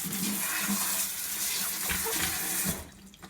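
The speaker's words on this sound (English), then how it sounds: "First, you're going to take your cabbage and wash it." A head of cabbage is washed under a running kitchen tap, a loud, steady rush and splash of water close by that cuts off near the end, leaving quiet.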